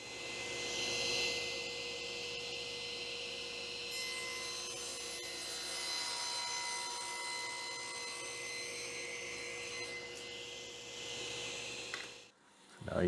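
A table saw rips wood against a fence set at 1 inch while building honey super pallets, giving a quiet, continuous whine and rasp that runs steadily, then ends with a brief clunk.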